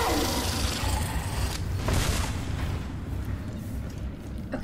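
Gunfire in the game Red Faction Armageddon: heavy, booming shots and rumbling blasts over a dense, roaring background, loud throughout, easing slightly toward the end.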